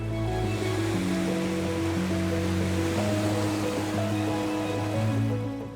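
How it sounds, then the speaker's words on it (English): Heavy surf pounds continuously in a steady, loud roar of breaking water with no gaps, storm waves crashing against a coastal road. "During storms, waves crash directly onto the road, swallowing cars in seconds."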